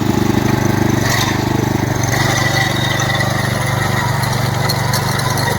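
A single chain cultivator engine runs steadily in second gear, a loud, continuous chugging drone with a dense low rumble and no pauses, close by throughout.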